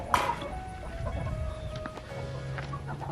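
Chickens clucking inside a small backyard chicken coop, a loud squawk at the start followed by scattered close clucks and soft calls, with a low hum of farmyard noise underneath.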